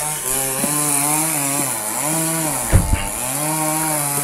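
A chainsaw cuts through a tree outdoors, its engine holding a steady, loud whine that rises and dips as the blade bites, with a short burst of revving near the end; no talking.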